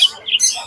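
Cockatiels chirp in quick bright calls at a busy pet market, the trills coming in short bursts, fairly close and alone without talk.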